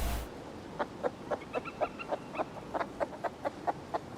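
Chickens clucking in the Rust video game, a run of short, evenly spaced clucks about a dozen in four seconds, fairly close and alone with no talk.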